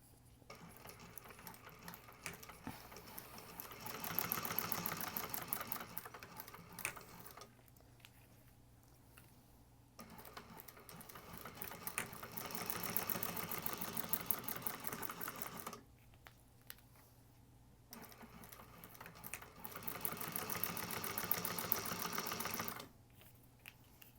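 A freshly oiled sewing machine top stitches fabric pieces for a divider bag at an eighth-inch seam allowance, running in three separate bursts of rapid mechanical whirring and clatter, with quieter pauses between them, close and fairly soft.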